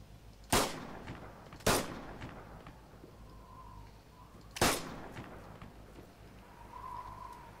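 Three loud, sharp gunshots from Arma 3 game combat, two close together near the start and a third a few seconds later, each ringing out over quiet ambient background.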